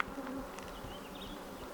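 A swarm of bees buzzes overhead outdoors, a faint, dense drone of many insects with individual buzzes weaving in and out, steady throughout with no talking.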